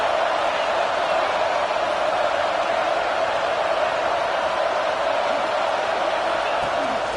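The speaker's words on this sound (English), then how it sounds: "this crowd is fired up. Listen to this noise here." Steady, dense roar of a stadium crowd in a college football video game, a constant wash of cheering with no breaks or clear individual voices across the whole stretch.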